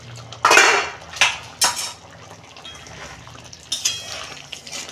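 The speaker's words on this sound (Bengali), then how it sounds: "দেখুন বন্ধুরা, ঢাকনা খুলছি" Pot lid lifted after five minutes of covered cooking of chana paneer: a few bright metallic clanks and clatters close by, followed by quieter scraping, with no speech.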